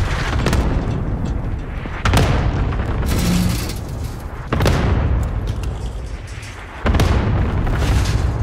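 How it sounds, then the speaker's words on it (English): Cluster strike explosions in Call of Duty: Modern Warfare, a run of heavy booms landing at irregular intervals, each a sharp close blast trailing into rumbling debris, loud and with no talking. "Enemy cluster strike! Watch your heads!"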